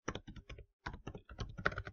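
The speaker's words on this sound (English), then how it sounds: "you can just go to add readers and type in Patterson at Leeds" Computer keyboard typing in short bursts of quick, close keystrokes separated by brief pauses, with no voices over it.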